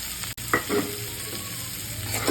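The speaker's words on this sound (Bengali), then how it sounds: "এবার পেঁয়াজটা ঢেলে দেবো কড়াইয়ের মধ্যে" Onions frying in a kadai while being stirred, a close steady sizzle with a sharp clack and a few scraping stirs of a spatula against the pan, with no voices.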